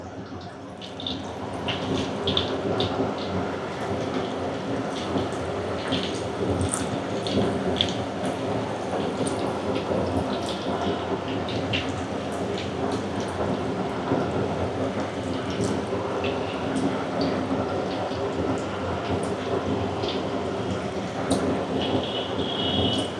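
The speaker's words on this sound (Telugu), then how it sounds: "ఆయిల్ వేడెక్కిందండి ఇప్పుడు ఇలా ఒకటి ఒకటి విడివిడిగా వేసుకో" Baby corn pieces sizzle in hot oil, dropped in a few at a time, giving a dense, even crackle and hiss that holds steady and loud throughout, with no voices.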